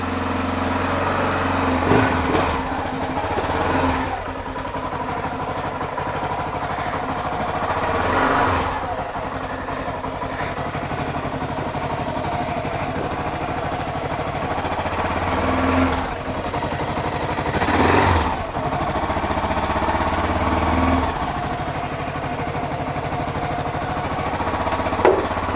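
A Honda XR600R single-cylinder motorcycle idles after a kick start, a steady thumping engine rumble near the microphone, swelling with a few throttle blips, while people talk over it.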